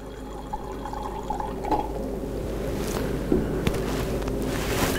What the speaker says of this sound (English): now I am going to add water in this beaker.